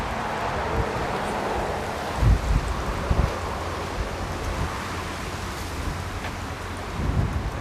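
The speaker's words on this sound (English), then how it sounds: "That's how windy it is out here." Strong outdoor wind roars steadily with low rumbling gusts buffeting the microphone, a constant broadband rush with a few heavier thumps and no talking.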